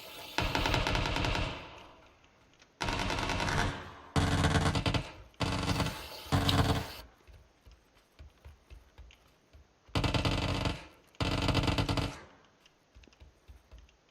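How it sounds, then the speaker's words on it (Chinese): Automatic-rifle fire in the battle-royale game PUBG, several loud sustained bursts of rapid shots, each lasting one to two seconds, separated by brief quiet gaps. "听到对枪声没？"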